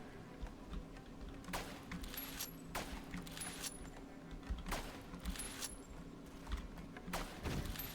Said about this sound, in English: Oh, that is just a missile barge.